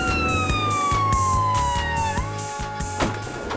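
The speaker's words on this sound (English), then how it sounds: "blue lights and sirens are a given." An ambulance siren on a blue-light emergency run to a life-threatening asthma attack wails with a falling tone over loud, rhythmic engine and road noise, close and prominent.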